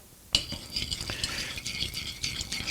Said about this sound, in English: Now I'm going to stir this.